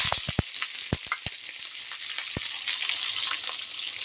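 Onion, curry leaves and a couple of green chillies hitting hot oil with mustard seeds, giving a bright steady sizzle with several sharp pops and crackles early on, close, no talking.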